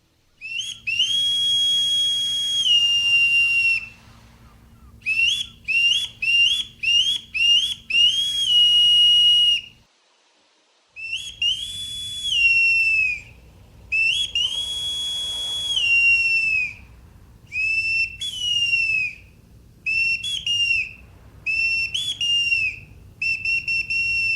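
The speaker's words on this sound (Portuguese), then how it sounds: "O cumprimento da rotina de bordo, bem como das soinas, são ordenados pelo toque de apito." A series of shrill naval boatswain's pipe calls, long sustained tones and short rapid bursts with rising and falling pitch, loud and close, with a low hum underneath.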